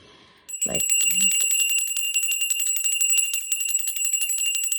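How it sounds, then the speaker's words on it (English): A small handheld bell is rung at an altar. It rings continuously and brightly with a rapid shimmering tremolo, close and loud. One soft thump comes just before the ringing starts, and there is no talking. "you just start ringing the bell and calling his name"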